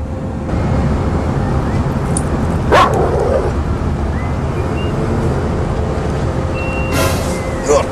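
A dog barks and whimpers in a few brief bursts over a steady rumble of a vehicle on the road during a drive out to a camping site.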